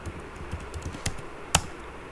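Quick irregular keystrokes clatter on a computer keyboard, a close run of light taps with one sharper, louder key press near the end.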